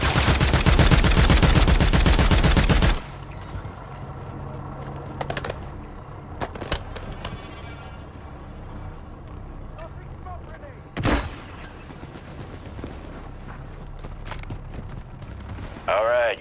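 Video game gunfire opens with a loud, rapid automatic burst lasting a few seconds, followed by scattered single shots and clicks over quieter game sound. A brief voice is heard near the end.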